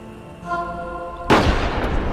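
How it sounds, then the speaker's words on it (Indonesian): A sudden loud gunshot blast in a film scene, one sharp broadband crack that follows a quiet stretch of tonal score, with the booming echo then trailing off. No one speaks. "Bodley malah menembak Dips yang merupakan rekan kerjanya"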